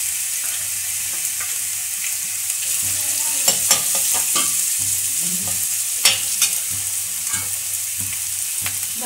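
Garlic and ginger paste fry in a pan for veg manchurian: a bright, continuous sizzle broken by repeated clattering stirs and scrapes of the spoon.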